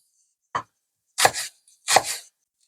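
Bacon being cut into pieces with a knife on a cutting board: one light tap followed by two heavier, slightly double-struck chops, close and crisp against silence.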